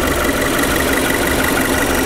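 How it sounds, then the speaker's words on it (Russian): Subaru Forester XT turbo engine, 280 hp, running at a steady idle close by, a continuous broadband hum with faint cooling fan whir and no talk over it. "Послушайте, как работает Subaru."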